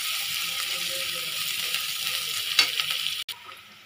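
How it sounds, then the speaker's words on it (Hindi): Onions frying in a pan give off a steady, close sizzle with stirring throughout, then a brief clatter and a sudden drop near the end. "जब तक प्याज लाल हो जाता है तब तक हम लोग को प्याज को फ्राई करते रहना है।"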